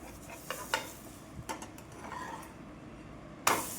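Green moong dosa on a hot pan: a soft background sizzle with several light metallic taps and scrapes of a spatula, ending in one sharper clack as it is flipped.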